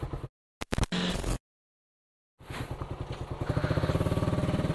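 A carbureted Suzuki Raider 150 motorcycle starts after a couple of short bursts and a pause, then settles into a close, rapid, pulsing idle as it warms up.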